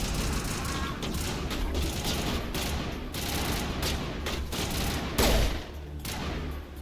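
Gunfire in the video game Mass Effect, a dense rattling fusillade of shots running continuously with a heavier boom near the end, loud and close.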